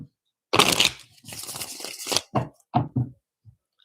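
Tarot cards shuffled in a few quick bursts, a long riffling rush followed by shorter crisp flicks and taps, close and fairly loud with no talking.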